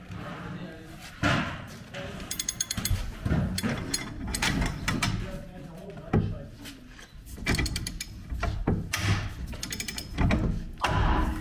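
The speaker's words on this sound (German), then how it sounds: "Das war jetzt das Geräusch von dem Ring, was noch übrig geblieben ist, dem Sicherungsring." Work on a wheel bearing of a VW T5 van, where the leftover retaining ring cracks: repeated metallic clanks, ratcheting clicks from a 3/4-inch ratchet, and heavy thumps, with someone talking intermittently over the mechanical noise.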